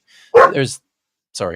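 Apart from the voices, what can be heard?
dog barking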